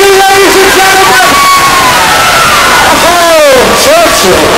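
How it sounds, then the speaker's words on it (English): A loud outdoor crowd cheers, whoops and shouts at a Christmas lights switch-on event in Newcastle, with voices rising and falling steadily and no clear applause rhythm. "Please give a round of applause for Churchill!"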